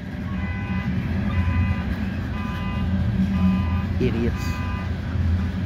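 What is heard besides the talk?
CSX loaded coal train passing, distributed power unit locomotive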